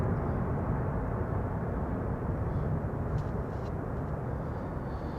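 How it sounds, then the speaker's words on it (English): A jet airliner landing at Amsterdam Schiphol produces a steady, loud broadband roar of thrust reversers with no break and no voices. "Reversers being applied there."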